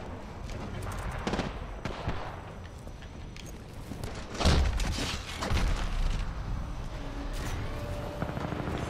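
Gunfire in Titanfall 2 aimed at a returning ship, rapid bursts of shots and impacts over continuous loud battle noise, with a heavier blast near the middle.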